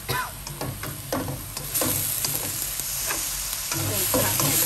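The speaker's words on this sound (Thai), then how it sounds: "เร่งผัดให้เข้ากันค่ะ" Blanched eggplant stir-fried over raised heat in a wok, a steady loud sizzle with repeated scraping strokes of the spatula at an irregular rhythm, close up and without talk.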